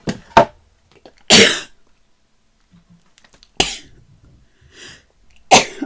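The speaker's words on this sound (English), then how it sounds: "Oh, excuse me, fit of the sneezes." Several loud sneezes burst out one after another with quiet pauses between, close by, mixed with a short cough or throat sound.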